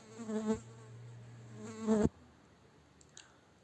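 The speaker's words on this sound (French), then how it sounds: "Oh, quelle mouche énervante!" Housefly buzzing close by, a loud droning whine that swells twice in the first two seconds and then cuts out, leaving faint room tone with a brief faint flutter near the end.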